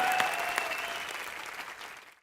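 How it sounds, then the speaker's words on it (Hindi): A studio audience at a televised entertainment show applauds loudly in a dense, even roar of clapping that holds steady, then tapers off and stops abruptly at the end. "जोरदार तालियां"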